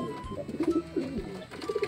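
Soft repeated racing pigeon coos, a few throaty burbling calls close by, with a brief pause before another cooing phrase.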